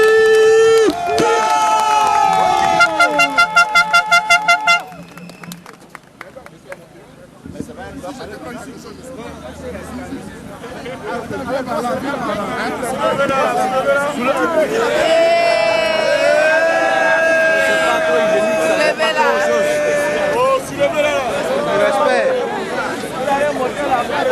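A crowd at a Front populaire ivoirien rally in France cheers and applauds for Brigitte, loud and sustained, with whistles and shouting voices swelling again after a brief lull, under amplified chatter.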